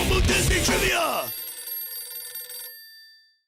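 A telephone rings as a jingle for phone booth trivia set at the United Kingdom Pavilion at Disney, starting under voices and music, then a bell-like ring that rings out and fades away.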